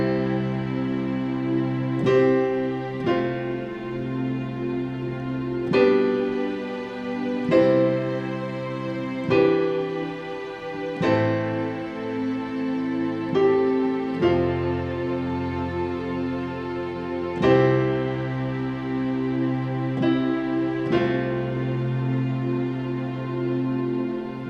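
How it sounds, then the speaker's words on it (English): A Hollywood string section sample played on a keyboard, sustained bowed-string chords changing every second or two in a slow, smooth progression, full and close with no voices. "I'm also using what this is called a Hollywood string section"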